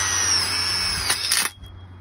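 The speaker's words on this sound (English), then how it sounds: "Using your self-tapper, you'll go ahead and put 2 in" A power drill driving self-tapping screws into metal carport sleeves, a loud close high whine that rises under load, then cuts off abruptly near the end, with no talk.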